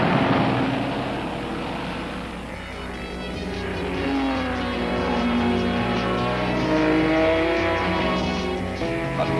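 Race cars, including an E-Type Jaguar, in a 1975 production race: loud engines roar and drone continuously close by, pitch rising and falling as the cars accelerate and pass, without pauses.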